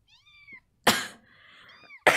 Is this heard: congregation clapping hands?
no